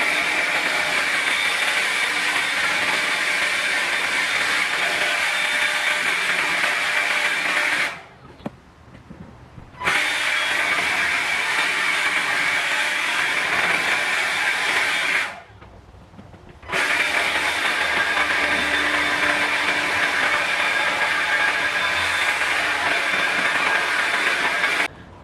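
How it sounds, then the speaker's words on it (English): Cordless 24 volt lithium blower drying car wheels, a loud steady whirring blast that runs in three long stretches separated by two brief pauses. "now I'm saving myself money by using this cordless blower"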